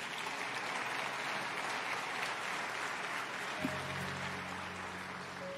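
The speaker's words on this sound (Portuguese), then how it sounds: "Você pode aplaudir ao Senhor por isso?" A church congregation applauds in a steady, soft wash of many hands. The sound is faint and distant, and a low sustained tone enters partway through.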